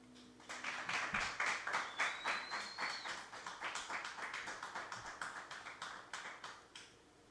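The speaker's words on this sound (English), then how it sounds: "I know I didn't give you much of a warning for the clapping" An audience at a singer-songwriter showcase claps in a quick, steady rhythm for several seconds, close and fairly loud, then the clapping fades out.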